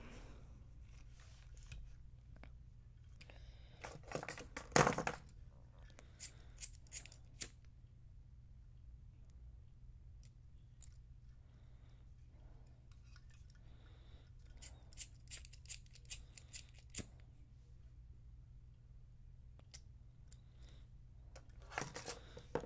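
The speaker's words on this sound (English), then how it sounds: "what you can do is snip off this" Scissors snipping the ends of macrame cord on a bracelet, a handful of quiet, sharp cuts spaced out over a faint background hum, close and soft.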